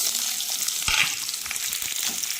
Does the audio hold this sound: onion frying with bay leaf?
yes